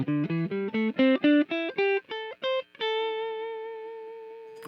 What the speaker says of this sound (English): Let's try and listen to some of the overdrive tones.